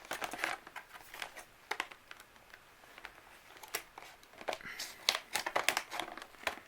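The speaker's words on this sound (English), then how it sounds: "It's actually been a long time since I've opened a blister pack that you have to cut open." A plastic blister pack holding a computer mouse is cut open, with repeated close crinkles, snips and crackles of stiff plastic in irregular bursts. The sounds grow busier toward the end.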